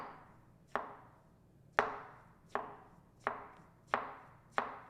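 Knife cutting a mushroom on a cutting board: six evenly spaced, crisp chops about one second apart, each thud ringing briefly before the next, close and clear with no voices.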